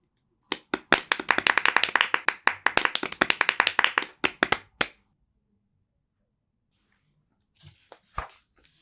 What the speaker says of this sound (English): The mummy dance finished and everyone clapped.